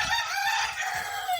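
Hens on a poultry farm, a dense chorus of clucking and crowing fowl filling the space steadily and fairly close, with no talk.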